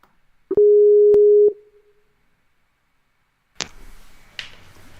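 A steady phone ringback tone sounds once for about a second, followed by silence, then a connection click and faint line noise while placing a call.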